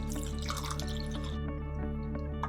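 Water trickles and drips into a pan of masala paste made with turmeric, red chili powder, coriander powder and garam masala for aloo biryani, with close splashy drips over a steady kitchen hum.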